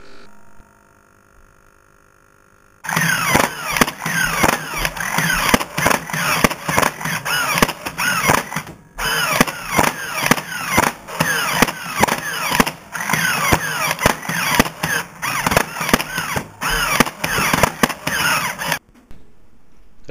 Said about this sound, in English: One gun will fire at the same time as another gun